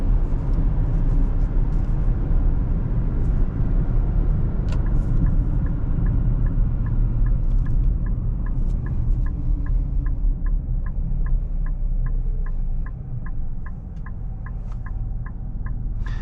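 Inside a 2024 Nissan Rogue SV on the road, the turbo three-cylinder engine hums low at reduced revs under steady road and tyre rumble, with a regular ticking indicator clicking through the second half.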